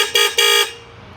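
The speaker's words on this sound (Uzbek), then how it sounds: "Signalining ovozi." Horn of an FDR motor scooter sounds two short, loud honks in quick succession, the second slightly longer, ringing with a bright tone before cutting off into quiet.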